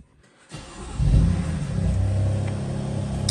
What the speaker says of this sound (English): I'll start the car up for you.